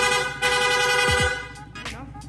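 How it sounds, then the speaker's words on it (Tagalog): Rapid horn fitted to a Yamaha Sniper 155 motorcycle blares a loud, sustained buzzy tone with rich harmonics, then a couple of short, separate bursts close by. "Nag-install din tayo ng rapid horn."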